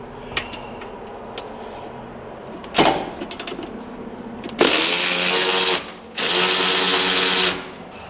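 Power drill working on the top shock mount of a 2022 CFMOTO ZFORCE 800 side-by-side during a lift kit install, loud close whirring in two long bursts after some clicks and a short rattling spin.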